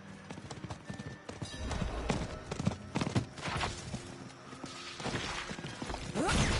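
Horses trot with a steady clip-clop of hooves in the Diablo 4 video game, several animals' footfalls overlapping in an uneven rhythm, fairly close and moderately loud, alone without talk.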